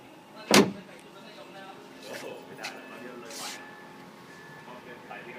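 On a 2012 Isuzu D-Max Hi-Lander Space Cab 2.5 VGS manual pickup, a sharp slam of the rear cab door is followed by a softer door shut and clicks, heard close under someone talking.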